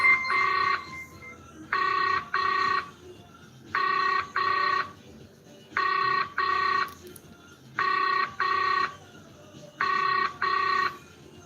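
Outgoing phone call ringback tone, double rings repeating every two seconds, steady and clear with faint background hiss between them.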